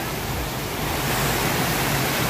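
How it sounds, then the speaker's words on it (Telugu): Bhaje waterfall near the Lonavala caves sends out a loud, unbroken roar of falling water that stays close and constant throughout the short stretch, with no talking. "మామూలుగా లేదుగా బాజే వాటర్ ఫాల్స్"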